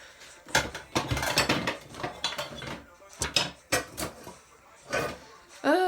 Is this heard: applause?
no